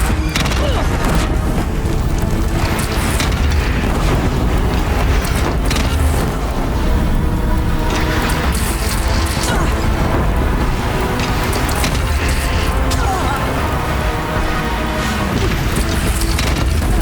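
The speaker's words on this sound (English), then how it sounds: "Deathbringer fire incoming!" Continuous heavy booming and rumbling explosions from the Deathbringer war machine's fire in the Horizon Zero Dawn final boss fight, dense and loud throughout with layered battle noise and no clear gaps.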